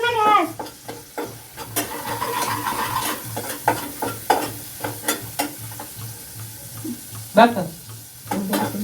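Onion sizzles and fries in a pan on a gas stove, a steady close crackle with repeated stirring scrapes and a brief voice over it.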